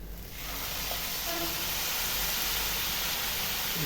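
Water poured into a hot pan of coconut and jaggery sets off a sudden, loud, steady hiss of steam that fills the space and holds without a break.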